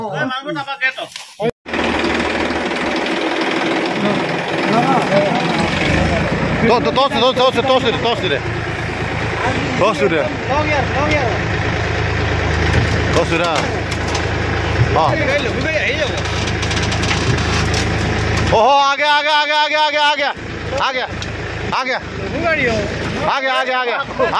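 A tractor engine runs steadily and loudly for a long stretch while being used to pull a vehicle out after a road accident, with several people shouting and talking over it.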